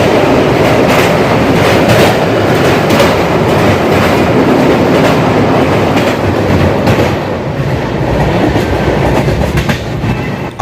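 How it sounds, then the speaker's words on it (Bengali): A passenger train rolls along the rails near Cuttack station in Odisha, its loud, steady rumble and wheel clatter running without a break and fading a little toward the end, with no voices. "আমাদের ট্রেন এখন কটকে এসে থেমেছে।"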